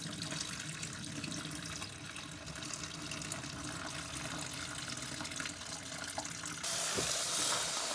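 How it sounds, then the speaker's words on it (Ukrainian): Boiled peas for bream fishing bait are rinsed and drained, with water running and splashing steadily throughout and a brief louder gush at the end. "потрібно обов'язково злити і промити весь наш цей горох трішки."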